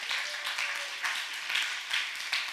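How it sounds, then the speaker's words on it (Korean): A small church youth retreat crowd gives faint, steady applause for the worship team, a soft patter of clapping with slight swells throughout. "우리 예배팀에게 한번 오늘 선 우리 동생팀에게 격려의 박수"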